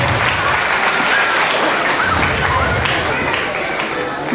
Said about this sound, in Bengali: আপনারা প্লিজ দর্শকদের উদ্দেশ্যে জোরে হাততালি